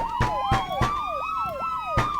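A police siren in a video game wails up and down continuously, cut through by sharp, loud bangs at irregular intervals.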